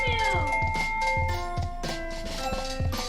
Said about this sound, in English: It does mew every time you go through the menu.